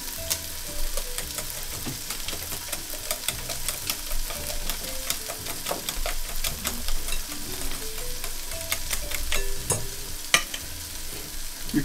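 Crushed potatoes are stirred into a Spanish tortilla mixture in a hot pan, giving a soft continuous sizzle broken by repeated scraping and clinking strokes of the utensil.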